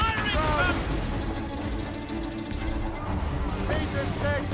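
Naval cannons in Assassin's Creed Rogue boom in a dense, rumbling barrage of heavy low thuds, with shouting voices rising over the battle noise at the start and end.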